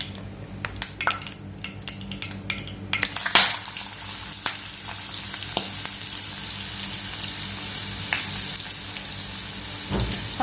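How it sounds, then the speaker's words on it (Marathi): Onion frying in hot oil for a dry prawn gravy, a steady close sizzle with scattered clinks and scrapes of a spoon against the pan, no voices. "आपला कांदा चांगला शिजून द्यायचा तेलामध्ये।"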